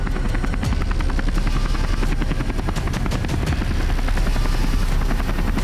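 Steady, loud rotor thump and engine whine of an Apache military helicopter in flight, close and continuous throughout with no talk.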